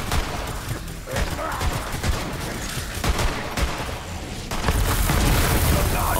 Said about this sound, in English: Tons of loot explosions.